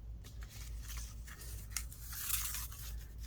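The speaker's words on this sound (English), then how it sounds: "all these things can be just ripped up and cut up and put into your collages" Paper torn up by hand for collage material, a few soft ripping and crinkling bursts close by over a low steady hum, quiet and with no talking.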